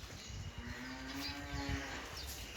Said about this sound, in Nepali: यता पनि गाई छ